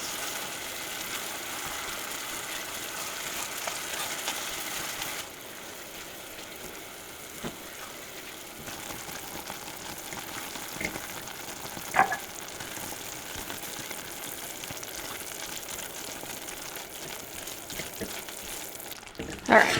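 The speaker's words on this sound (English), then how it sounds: "we need to mix and not stop mixing until it comes to a full boil" Homemade candy mixture bubbling in a pot while being stirred, a steady soft bubbling hiss with occasional faint scrapes and clicks, louder and denser for the first few seconds and then settling to a quieter simmer.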